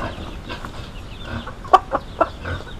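A few short clucking calls from a rooster on a poultry farm, quick and close, over a low background murmur with faint activity around.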